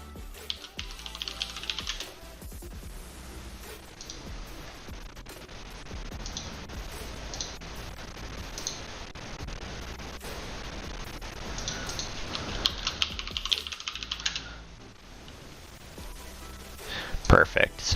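A computer keyboard clatters in steady bursts of close clicks while setting a password on a Windows server, with someone talking over the typing for much of the time.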